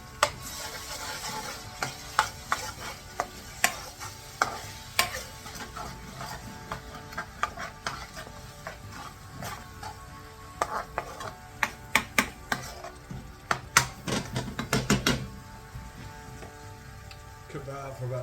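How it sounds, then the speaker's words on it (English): A spoon stirs tomato paste into a chilli lamb curry in a pan, giving irregular scraping and clinking taps over a soft sizzle, close and fairly quiet throughout. "Stir it in."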